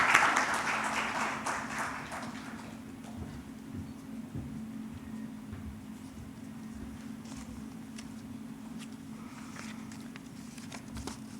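An audience at the 4th Annual Summit of the Illness to Wellness Foundation applauds in a short burst of clapping that fades within a few seconds, leaving a steady low room hum.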